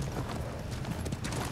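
Horse hooves clip-clopping in the video game Ghost of Tsushima, a steady rapid patter of steps at moderate level over a low rumbling background.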